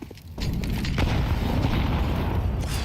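A deep boom of grenade explosions in a Counter-Strike match swells suddenly and rumbles on loudly, with heavy low-end roar filling the rest of the moment.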